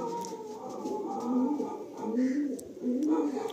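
An Andhra breed pigeon pair, a male and a female, kept among high-quality birds for sale in Kolkata, coos in low, throaty, overlapping rolls that swell and fade across the few seconds at close range.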